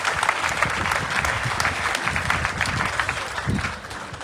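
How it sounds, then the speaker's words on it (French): A church congregation applauds in sustained, dense clapping that fills the room at a steady loud level throughout, with a faint murmur of voices mixed in. "j'aimerais qu'on acclame encore pour ces temps"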